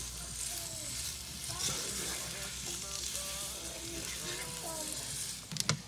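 Carrots being stirred in a brown sugar glaze in a pan, a steady soft sizzle under a voice talking, with a couple of louder spoon scrapes at the end.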